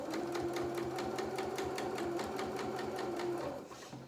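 A sewing machine stitches a pinafore seam, its steady rapid needle rhythm running close and loud for several seconds before slowing and stopping near the end.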